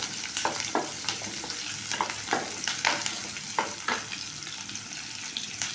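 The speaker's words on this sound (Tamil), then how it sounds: "பாருங்கள், வெங்காயம் நல்லா வணங்கிடுச்சுங்க." Onions frying in groundnut oil, a constant sizzle broken by repeated bursts of spatula stirring and scraping in the pan, close and fairly loud, no voices.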